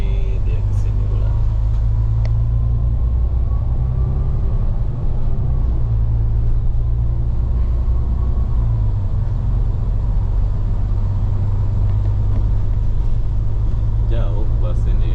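A city bus drives through the outskirts of Singapore, heard from inside as a loud, steady low engine rumble with shifting tones as it changes speed, and faint clunks near the start and end.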